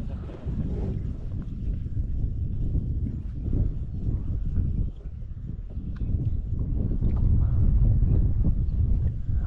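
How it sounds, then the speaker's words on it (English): Steady wind buffets a microphone out on a lake during a fishing outing, giving a constant low rumbling roar that swells slightly toward the end. "The only thing that made me nervous is the wind."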